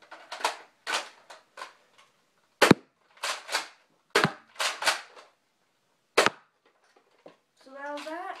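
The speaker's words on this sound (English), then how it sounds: "I will actually put 3 darts in to show you that it fires really hard" A modded Nerf Retaliator with the air restrictor removed fires three foam darts, each a sharp loud crack, spread out between short bursts of a voice talking nearby.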